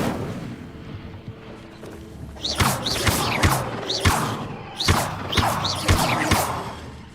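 Incendio fire spell being cast in the video game Hogwarts Legacy, heard as a series of sharp, bursting whooshes and cracks in quick succession over a steady background hum, with no speech.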